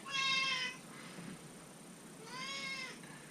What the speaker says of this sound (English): we've got a loud and annoying cat.